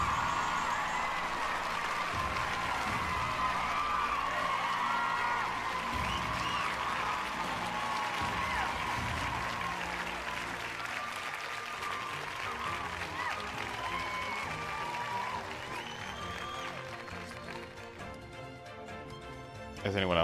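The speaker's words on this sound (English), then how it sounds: "round of applause for Citrine." Applause from an animated crowd sounds in the video game Fire Emblem Engage. The clapping is continuous and fairly faint and fades gradually over about twenty seconds, with bright game tones layered in.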